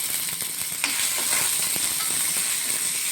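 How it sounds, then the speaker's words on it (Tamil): Curry leaves dropped into hot oil with browned coconut, giving a bright, hissing sizzle with a sharp crackle near the start, close and loud, steady to the end with no voices. "கொஞ்சம் கருவேப்பிலை போட்டுக்கிறேன்"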